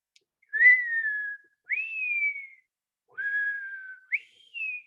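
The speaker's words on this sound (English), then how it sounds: "I hear one noise the most, which is this sort of like descending whistle." European starling giving repeated descending whistle calls, four clear notes in a slow, spaced sequence, close and fairly loud, with no other sounds between them.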